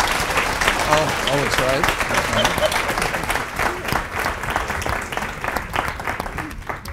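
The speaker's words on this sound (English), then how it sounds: "I want to give them a round of applause" An audience at an education convening claps for the panelists. The applause is sustained and crowd-wide, and a few voices speak over the clapping.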